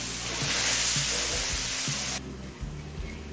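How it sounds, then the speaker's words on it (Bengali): Chopped tomatoes fry in hot oil in a pan. A loud, close, steady sizzle with a few soft stirring knocks suddenly drops to a much quieter hiss partway through. No one speaks. "টমেটোটা নরম হয়ে আসা পর্যন্ত ভেজে নিলাম।"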